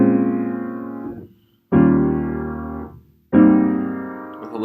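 Three sustained jazz piano-style chords form a minor 7 to dominant 7 to major 7 progression with added color tones, each ringing out and decaying before the next, separated by short silences.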